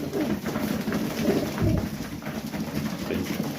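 Pigeons in a loft coo steadily and close, a continuous low throaty murmur from several birds with no talk.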